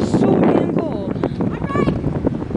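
Gusty wind roars steadily across the microphone, with faint voices and outdoor rustle mixed in underneath.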